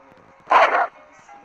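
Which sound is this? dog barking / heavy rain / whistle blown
dog barking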